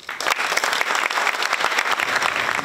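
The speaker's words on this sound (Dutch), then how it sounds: "Heel graag een heel groot applaus voor onze eerste spreker" An audience claps steadily for an architect from Mecano Architecten taking the stage as first speaker at the opening of the new Zaans Medisch Centrum hospital, dense and continuous with no talk.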